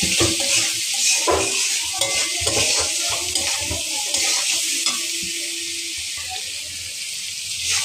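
Spices with a pinch of salt being stir-fried in a pan for a fish curry, a steady loud sizzle with frequent scraping stirs throughout, no talk.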